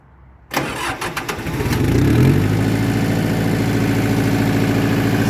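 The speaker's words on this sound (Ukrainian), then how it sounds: "Так, спочатку трошки додаємо газку." A Mitsubishi MT2201 four-cylinder tractor engine cranks and catches, then settles into a steady, loud, close diesel idle with a slight rise in throttle.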